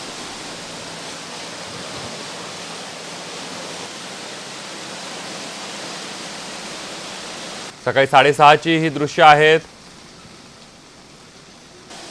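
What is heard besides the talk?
heavy monsoon rain in Mumbai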